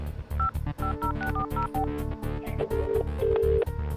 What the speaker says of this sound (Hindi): We are getting a busy tone on this number.